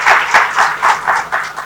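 An audience at a talk festival claps in a quick, regular rhythm of about four sharp beats per second, close and fairly loud, with no voices over it.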